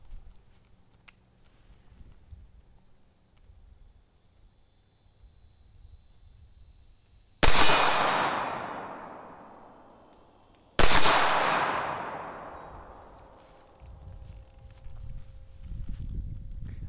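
Two loud, close SIG Sauer M17 pistol shots fired a few seconds apart, each a sharp crack with a long ringing decay, over quiet background rustle.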